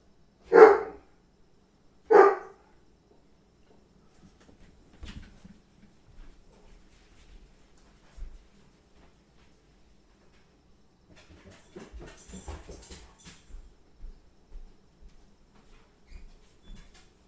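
Two loud dog barks in a house ring out close together near the start, followed by quieter scattered rustling and household noises with no talking.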